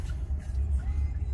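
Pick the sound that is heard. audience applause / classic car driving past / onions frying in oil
classic car driving past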